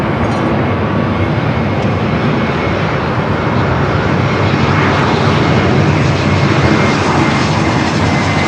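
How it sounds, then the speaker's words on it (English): A JetBlue passenger jet flies near LAX airport, its engines producing a loud, steady, broad roar that fills the whole stretch without a break. "JetBlue flight coming up from Fort Lauderdale, Florida, with some JetBlue news today"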